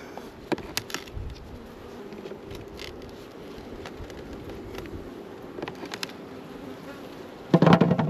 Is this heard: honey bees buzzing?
yes